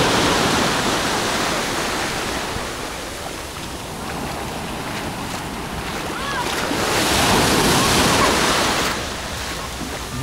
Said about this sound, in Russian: Такие вот волны.